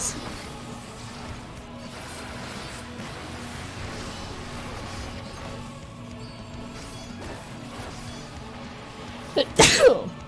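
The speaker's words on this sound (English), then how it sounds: "Got the sneezes." A single sharp, loud sneeze bursts out near the end, following a stretch of quiet background game music.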